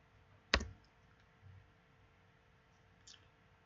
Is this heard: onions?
no